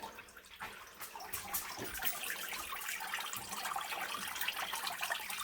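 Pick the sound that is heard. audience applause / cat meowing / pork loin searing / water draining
water draining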